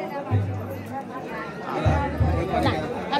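A crowd queues for darshan at a temple during a village Shimga festival in Konkan, a dense murmur of many overlapping voices with a few nearer speakers standing out.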